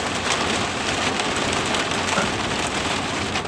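Steady heavy rain pours down outdoors, a dense, continuous wash of drumming drops on surfaces, loud and unbroken with no voices.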